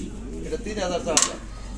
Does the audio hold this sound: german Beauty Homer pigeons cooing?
yes